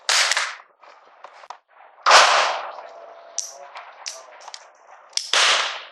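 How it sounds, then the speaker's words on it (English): Sharp, loud single gunshots from a .380 pistol fired one-handed, three distinct cracks spaced a few seconds apart, each with a decaying tail and quieter rustling and clicks between them. "I'm going to do a one-handed shot."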